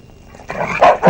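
A dog barks close by, a short rough whine swelling into two loud barks about a quarter second apart over faint background noise, with no speech.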